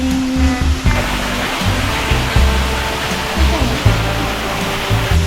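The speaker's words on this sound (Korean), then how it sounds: "딱 수영하고 싶다. 이렇게 엄청 큰 폭포에서." A big waterfall in Malaysia gives off a constant rushing roar, with a faint low murmur of voices underneath.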